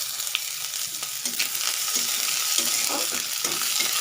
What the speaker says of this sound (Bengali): জিরাটা ভাজা হয়েছে দিয়ে দিচ্ছি কুচানো পেঁয়াজ